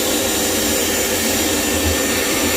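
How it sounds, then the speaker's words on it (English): A vacuum cleaner fitted with a crevice tool runs steadily as it sucks hair and gunk from the rubber door seal of a Kenmore front-loading washing machine, a loud continuous whooshing drone with no talk. "we're going to vacuum what hair and gunk we can with the vacuum cleaner"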